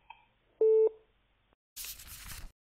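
Telephone busy signal while calling a call-centre service hotline, a single clear tone burst after faint beeps, followed by a short burst of noisy rustling.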